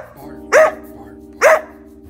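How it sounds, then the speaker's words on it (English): Two loud, close dog barks about a second apart, each short and sharp, over a steady low hum. "your dog won't stop constantly barking"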